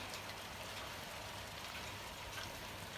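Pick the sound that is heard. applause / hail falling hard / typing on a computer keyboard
hail falling hard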